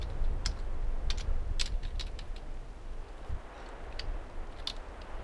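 Computer keyboard typing heard as scattered, irregular clicks and short bursts of keystrokes over a low background hum, fairly close, with no voices.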